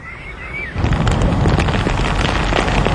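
Heavy monsoon rain over rice paddies begins suddenly as a loud, dense roaring hiss that continues steadily, following a quieter opening.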